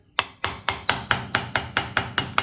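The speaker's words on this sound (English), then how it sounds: "Put this nut back on here so we can pound on it on this side." Hammer pounding on a nut fitted to the crankshaft of a Husqvarna 359 chainsaw: about ten sharp, evenly spaced metallic blows in quick succession, close and clear.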